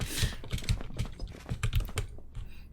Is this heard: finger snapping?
no